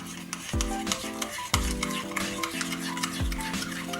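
A spoon stirs a glaze of mustard, apple cider vinegar and brown sugar in a bowl, giving a few distinct knocks and scrapes against the sides amid soft wet swirling, close and quiet, without speech.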